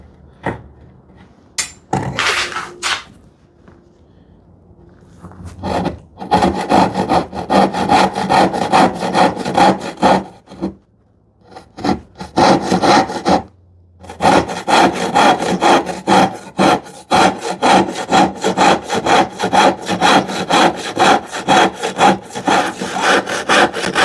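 A hand saw cuts through wood with a steady, fast rasp of push and pull strokes. A few tentative scrapes open the run, and the sawing stops briefly twice before it carries on.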